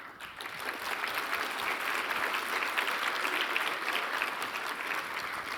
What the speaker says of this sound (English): big applause for that team